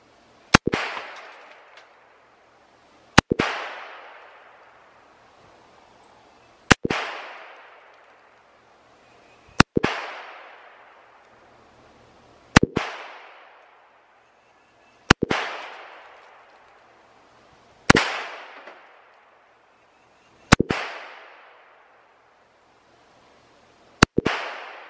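A firearm fires about nine single, sharp shots, evenly spaced a few seconds apart at an outdoor range, each loud crack ringing out into a decaying echo, with no talking in between.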